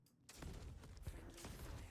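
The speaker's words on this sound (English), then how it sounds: "cannons are devastating, by the way" Ship cannons in Star Citizen fire at a Sabre fighter, a dense run of heavy booming blasts that starts abruptly after a brief quiet moment and keeps rolling loud and close for the rest of the stretch.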